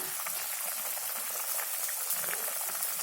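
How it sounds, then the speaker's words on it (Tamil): A pot of kurma curry bubbles and sizzles with a steady, dense hiss, close and continuous, no voices. "குழம்பு நல்லாவே கொதிச்சு வந்துக்கிட்டு இருக்கு."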